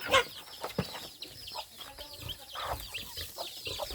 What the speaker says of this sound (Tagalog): Ayan po yung ating mga sisiw.